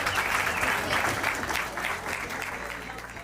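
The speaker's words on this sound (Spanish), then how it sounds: "El aplauso largo y sincero fue el mejor reflejo del respeto y la admiración que despiertan ambos." Long, sincere applause from an audience honouring two musicians at a tribute ceremony: a sustained, dense wash of many hands clapping at moderate volume, steady throughout with a faint murmur of crowd underneath.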